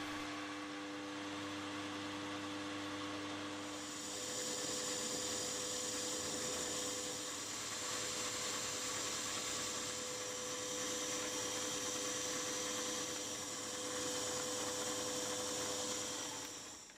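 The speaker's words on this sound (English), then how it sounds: "before going on to drill and tap the hole for the clamping screw" A machine tool drills and taps a hole for a clamping screw in a small metal eccentric for a model boiler feed pump, a steady whirring hum that rises in pitch after a few seconds and holds with a faint high whine.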